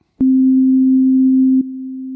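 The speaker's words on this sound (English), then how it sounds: "The sound we're using this time is a synth patch I created that just changes in volume" A synth patch that jumps in volume: one steady pure tone switches on abruptly, holds loud, then drops suddenly to a quieter level and keeps sounding, with no voice.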